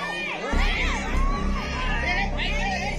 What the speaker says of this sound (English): The crowd screams in fear and terror while the man attempts to scare the large predators